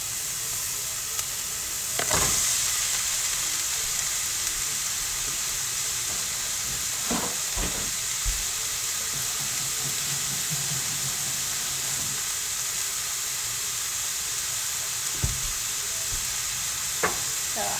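Ground turkey meat frying in a pan, a steady close sizzle and hiss broken by several sharp scraping clatters of stirring.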